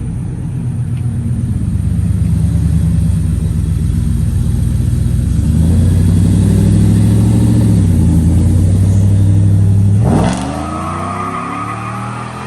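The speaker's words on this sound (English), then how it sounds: "Here comes the Ford F-150." A Ford F-150 pickup truck at a car meet cruise revs hard and accelerates past, its loud, steady engine roar building and holding, then dropping away sharply as the truck pulls off.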